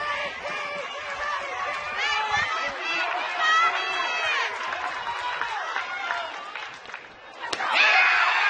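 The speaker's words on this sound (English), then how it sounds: "Inside doesn't get the call, and you hear the crowd react." Crowd at a Little League softball game, Texas against North Carolina, with a broad rumble of chatter, murmurs and calls from the stands. It rises after a close inside pitch goes against the batter, and a sharp slam-like knock sounds near the end.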